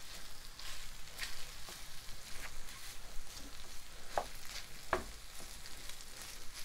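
Bacon and cheese fried rice (yakimeshi) with green onions is broken up in a hot pan, a faint continuous sizzle with occasional soft scrapes and taps from a utensil.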